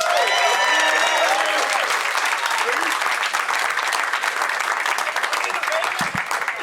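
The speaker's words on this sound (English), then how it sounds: "make it loud for the hilarious Bailey Miller, everybody." Comedy club audience at the Punchline applauding loudly and steadily, a full sustained wash of clapping with a few cheers near the start.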